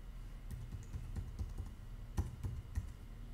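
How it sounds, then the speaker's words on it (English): Password being typed on a computer keyboard while setting up a Google account, a quiet scatter of light key clicks at an uneven pace, close but faint, with no voices. "type it in again."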